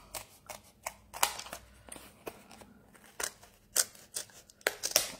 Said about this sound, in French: Je viens découper